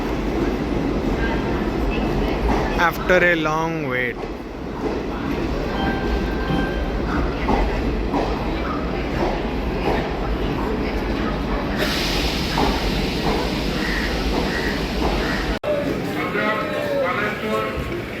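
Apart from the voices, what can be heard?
train arriving at railway platform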